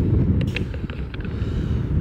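Gusty wind blowing at the high lookout of a treehouse cabin in the Adirondacks, rumbling and buffeting loudly across the microphone in uneven surges, close and continuous with no voices.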